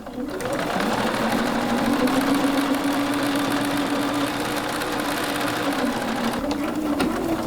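Sewing machine stitching fabric for a small pincushion: a steady mechanical whir runs close and even for several seconds, slowing briefly near the end.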